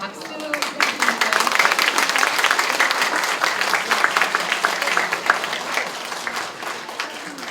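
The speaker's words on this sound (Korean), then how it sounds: "박수 부탁드립니다." Audience applause at a book launch for a women's Donghak documentary novel, a steady dense burst of clapping from a crowded room lasting throughout, loud and close.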